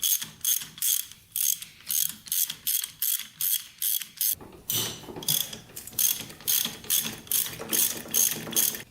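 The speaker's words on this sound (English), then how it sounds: "Now we're just gonna get these bolts out of here." A ratchet wrench working loose the cylinder head bolts on a locked-up scrap ATV engine, clicking in steady rapid strokes, close and loud with no talk.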